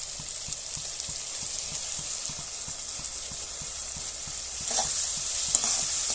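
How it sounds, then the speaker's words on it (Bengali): Onion, green chilli and coriander leaf paste with cumin powder and a little chilli powder sautéing together for raw banana kofta curry: a steady close sizzle with a regular scraping stir roughly every quarter second, the frying swelling louder near the end. "এবার এগুলো আমি একসঙ্গে একটু কষিয়ে নেব"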